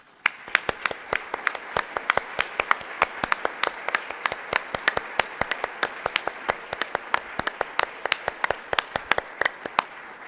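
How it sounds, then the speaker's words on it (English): Scattered audience applause at an evening lecture, sharp individual claps overlapping in a brisk, uneven patter that carries on steadily for around ten seconds with no talk. "asking him to rise and receive our robust applause and appreciation"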